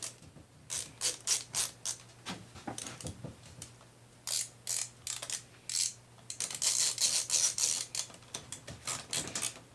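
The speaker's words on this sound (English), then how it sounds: "put the two screws on that mount the carb" Small screws being driven into the carburetor mount of an Echo HC2400 hedge trimmer, heard as a close, quiet run of irregular ratcheting clicks and metallic ticks with no talking.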